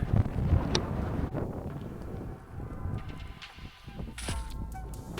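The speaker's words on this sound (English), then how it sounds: "It's awfully windy out here." Strong wind buffets the microphone with heavy low rumbling gusts throughout, with a few faint clicks and knocks in the background.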